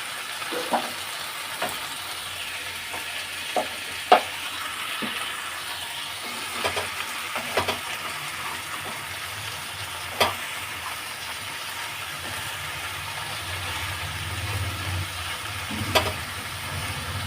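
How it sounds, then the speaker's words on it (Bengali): Pieces of bottle gourd fry in a pan while being stirred, a soft continuous sizzle punctuated by scattered clinks and scrapes of the spoon against the pan, quiet and close. "লাউগুলো দিয়ে একটু এভাবে নাড়িয়ে নেবো"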